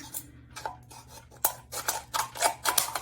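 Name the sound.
cutting a thin tin can with scissors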